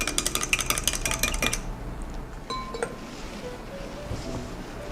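Spoon clinking and scraping against a cup while stirring a caramel latte topped up with hot water, a quick run of bright clinks at the start followed by quieter kitchen sounds.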